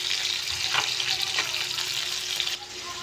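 Hot oil crackles and hisses as fish fries, a dense steady sizzle with bursts of spattering.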